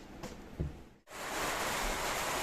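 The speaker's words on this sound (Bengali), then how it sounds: "বলতে বলতেই বর্ষা শুরু হয়ে গেছে" Rain starts falling outdoors: after a few faint knocks and a brief lull, a broad, steady hiss of rainfall rises and continues at moderate level.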